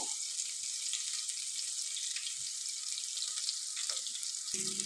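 Ginger and garlic sauté in oil in a pan, a soft, even sizzle that holds steady throughout, quiet and close, with no talking.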